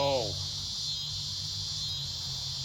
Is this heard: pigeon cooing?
no